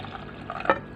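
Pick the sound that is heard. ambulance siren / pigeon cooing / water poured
water poured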